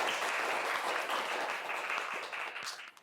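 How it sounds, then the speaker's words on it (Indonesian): Sustained audience applause from a group in a university lecture or classroom session, steady and fairly close for about three seconds before thinning out at the end. "silakan tepuk tangan dulu"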